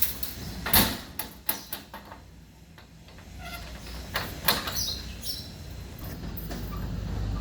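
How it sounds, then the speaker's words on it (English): A fire truck's bonnet is popped open at a fire station, with a few sharp metallic clunks and latch knocks followed by rattling and a low rumble building toward the end, close by and without talking. "I just popped the bonnet open"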